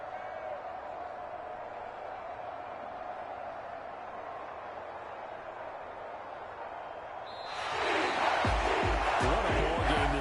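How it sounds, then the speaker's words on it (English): A home crowd in a football video game swells into loud applause and cheering in the last couple of seconds, after a long stretch of steady, low crowd murmur. "And the home crowd applauding."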